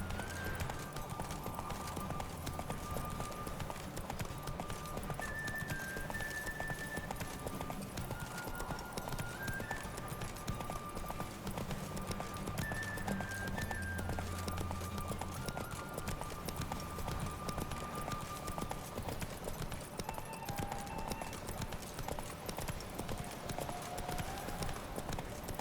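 Horse hooves clip-clopping in the video game The Witcher 3: Wild Hunt, a steady continuous rhythmic trot throughout over ambient game music, with occasional faint whinnies.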